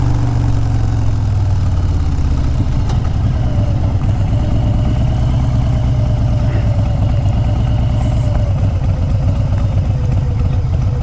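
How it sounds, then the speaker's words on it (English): Several motorcycles idle together at a drive-in with a rough, throbbing, loud, close-up engine chug. It has a steady lumpy rhythm and faint clatter, running on for the whole stretch with no voices. "Hey, motorcycles."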